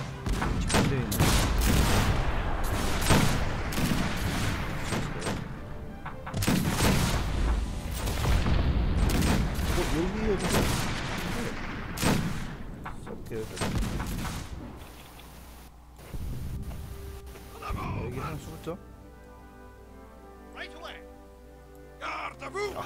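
Volleys of musket fire and booming cannon in a battle of the American Conquest strategy game, set at the 1811 Battle of Sabugal: dense crackling salvos and heavy thuds crowd the first half, thinning to sparse shots later, with commentary throughout.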